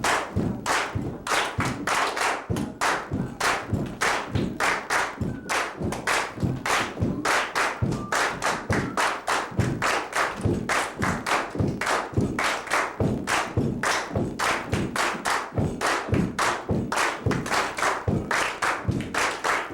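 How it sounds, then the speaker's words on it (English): Sharp hand claps sound to a counted beat in a eurythmics music class at a musicians' conference, a long, regular series of loud, close claps in steady repeating groups, with no talk over them. "No clapping, just move to it."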